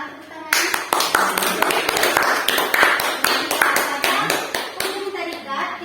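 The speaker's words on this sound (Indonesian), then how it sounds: "Tepuk tangan." A physics class applauds together in a classroom, with sharp, close hand claps ringing out sometimes in unison and sometimes scattered while children talk over them for several seconds.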